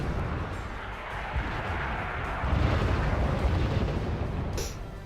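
Mortar fire in Wargame: Red Dragon, a continuous rumbling barrage of distant booms and crackling impacts that swells louder midway, with no voices.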